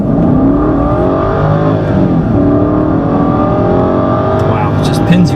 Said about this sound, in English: it just makes such a distinct V8 sound